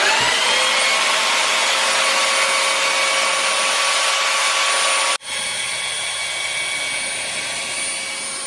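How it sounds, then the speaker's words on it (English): A belt sander runs on wood, powered from an EcoFlow Delta Mini portable power station, giving a loud, steady high-pitched whine with a hard rasp that cuts off abruptly partway through and then continues as a quieter tone. "let's find out how long this will run a belt sander"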